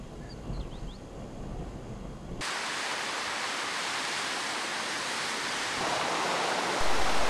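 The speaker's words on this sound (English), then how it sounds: "We had a hard time finding this magnificent waterfall" A waterfall on the Isle of Mull roars with a steady, broad rush of falling water that grows stronger and fuller partway through, with no voices.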